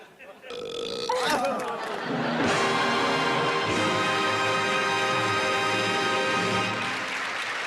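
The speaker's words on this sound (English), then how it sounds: "let's get on with the nominees for Best Belch in a B-movie" A long, loud, drawn-out belch from a B-movie rumbles on for several seconds, rising in pitch and then holding steady before it fades.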